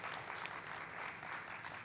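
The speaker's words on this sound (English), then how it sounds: "So let's give them a round of applause." A keynote audience at a best-practices colloquium applauds steadily for about two seconds, a continuous faint patter of clapping in a large room with no voices over it.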